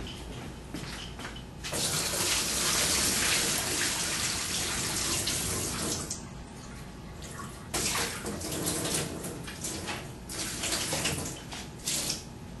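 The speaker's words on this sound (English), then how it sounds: "pour off the water off the top down the sink" Water from a bucket pours and splashes steadily down a sink for several seconds, loud and close, easing off briefly and then gushing again.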